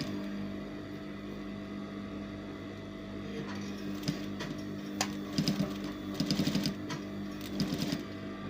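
Sewing machine top stitching fabric on a basic bodycon top, a steady mechanical whir running throughout at moderate speed, with short clusters of sharper stitching clatter toward the end, close up and alone.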